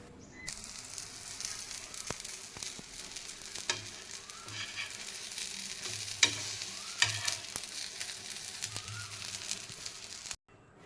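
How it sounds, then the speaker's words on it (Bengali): Pancakes sizzle steadily in a pan, with occasional soft scrapes and clinks of a utensil over the continuous frying hiss. "এই প্যানকেকগুলো তৈরি করে নিচ্ছি"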